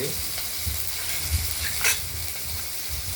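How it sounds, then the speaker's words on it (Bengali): Mustard seeds and green chillies tempering in hot oil: a steady, fairly quiet sizzle with soft crackles and one brighter burst of spitting near the end. "তেল গরম করেছি আচ্ছা। সর্ষে ফোড়ন দিয়ে আর কাঁচা লঙ্কা ফোড়ন দিয়ে"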